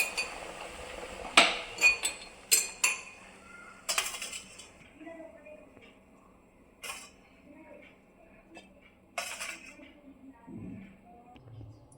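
Steamed broccoli is lifted out of a cooking pot amid sharp metallic clinks and clatters of utensils and dishes, busy at first and then sparser, with a few soft knocks later.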